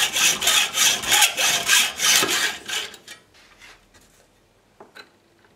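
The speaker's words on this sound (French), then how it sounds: "Je vais le scier et le porter au rouge." A saw cuts back and forth through a length of copper tube in steady rasping strokes, loud and close, then stops and leaves a few faint clinks and handling noises.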